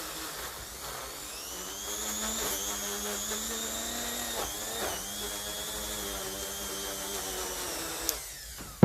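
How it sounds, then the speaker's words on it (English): Wire brush spinning on a power drill while cleaning a Lucas starter part from a 1953 Ferguson 20 diesel tractor, a steady close whirring motor whine with scratchy brushing texture, ending in a sharp click. "A Dremel or wire brush on the drill,"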